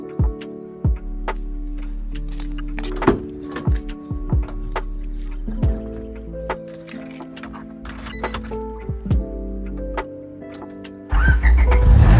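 A Honda Del Sol with a loose fender bolt starts up and idles, with low engine hum, scattered clicks and rattles, and a louder burst near the end, close by and with no talk.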